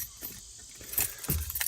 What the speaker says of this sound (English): take out my keys